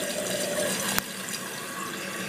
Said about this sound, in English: We're going to flush it. She flushes.